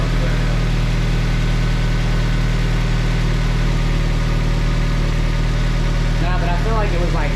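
A 1999 NB1 Mazda Miata engine idles after a Skunk2 intake and throttle body swap, a steady low hum with a faint rhythmic pulse, running continuously while people talk over it near the end.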